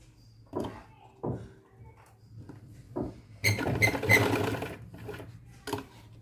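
A sewing machine stitches an Afghani salwar, starting with short separate bursts of whirring, then running in a longer steady stretch of rapid mechanical chatter, close and fairly loud.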